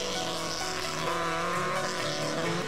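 Class 8 Honda Civic race cars at the Wexford hillclimb, engines screaming at high revs close by as tyres squeal, the roar shifting as a car powers through and away.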